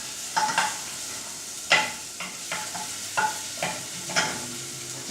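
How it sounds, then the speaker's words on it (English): Shallots stir-fry in a pan for risotto: a constant sizzle, broken by sharp bursts of stirring and scraping every second or so, close and clear, with no voices. "So we stir fry them until they are translucent."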